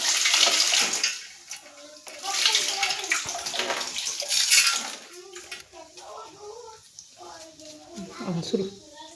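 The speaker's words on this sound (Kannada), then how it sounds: "ನಾನು ಸ್ವಲ್ಪ ಅಕ್ಕಿ ತೊಳಿತಿದ್ದೀನಿ" Rice is washed by hand in a pot of water, with sloshing, splashing water sounds in irregular bursts, close by, and a person talking over and between them.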